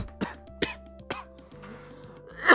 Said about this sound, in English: I think I just coughed violently directly into the microphone